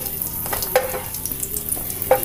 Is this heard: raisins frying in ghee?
yes